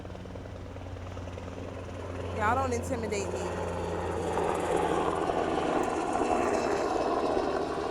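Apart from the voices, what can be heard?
helicopter flying low over a beach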